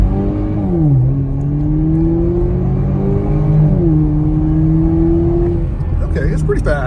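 A 2021 Chevrolet Camaro 1LT with a 2L turbo accelerating from 0 to 60 on a wet road, engine droning loud and rising through gear shifts, with a voice speaking near the end.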